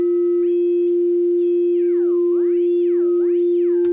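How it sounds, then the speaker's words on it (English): A synthesizer sine wave, frequency modulated so its pitch glides up and down, holds steady steps and then sweeps in smooth arcs. A pure, continuous electronic tone plays alone and loud for the whole span. "frequency modulation right now is just a sine wave frequency modulating it up and down in pitch"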